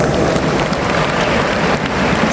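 Sustained applause from an audience at a product launch, dense and even clapping filling the room at close range with no pauses.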